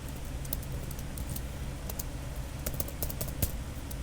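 Computer keyboard typing a private message command in an IRC chatroom, giving scattered crisp key clicks in short irregular bursts against a steady low background hum, close and fairly faint.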